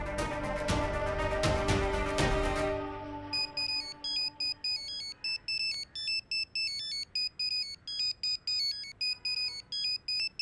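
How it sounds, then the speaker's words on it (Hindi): Mobile phone ringtone for an incoming call, a repeating pattern of bright electronic tones in short rhythmic bursts, following a louder stretch of music at the start. "मेरा फोन क्यों नहीं उठा रही तू?"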